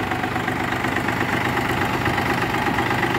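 A mini tractor fitted with a rotary tiller sits idling, its engine giving a steady, continuous rumble with a faint knocking pulse. It stays loud and close and does not vary for the length of the recording.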